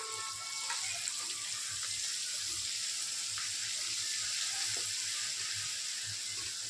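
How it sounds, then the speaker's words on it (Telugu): Ginger paste frying in a pan for chicken pickle gives a steady, even sizzle that hisses continuously with soft background clatter and no talking. "అల్లం పేస్ట్ వేయించుకున్నాము."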